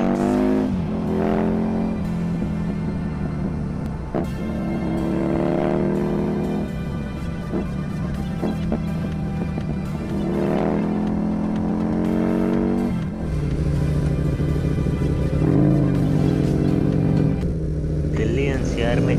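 A Husqvarna Nuda 900R motorcycle rides along an open, quiet holiday road in Delhi NCR. Its steady engine drone runs continuously beneath someone talking throughout.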